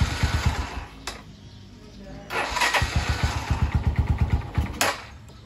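A small motorcycle engine sputters into life and revs in rapid throttle bursts, dropping back between pulses, close by, with voices talking over it.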